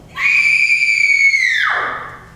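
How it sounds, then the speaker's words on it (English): A woman's scream used as a stage effect in a full performance of Macbeth: one loud, sustained high shriek that holds steady for over a second, then slides downward and fades out alone. "What is that noise? It's the cry of woman"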